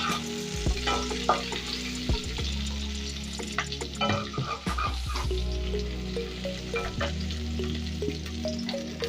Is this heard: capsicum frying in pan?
yes